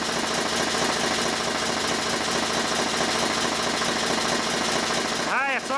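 A car engine idles while its alternator charges the battery, a steady, close, rattling mechanical chug that runs evenly throughout and cuts off abruptly at the end.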